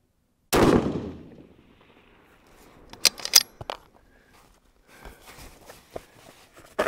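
A 6mm Creedmoor rifle fires its first cold-bore shot of the day: one loud, sharp report with a decaying boom, followed by scattered clicks and rustling nearby.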